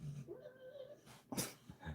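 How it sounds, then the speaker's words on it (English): A sleeping dog dreaming, giving soft squeaky whimpers and breathy little whines in a short close sequence, quiet and intermittent. "dog is now dreaming and doing squeaky sounds."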